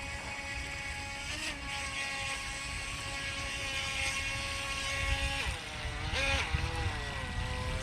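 SGILE RC racing speed boat motor running against a strong river current, a steady high electric whine that dips and rises in pitch with the throttle, continuous and moderately close.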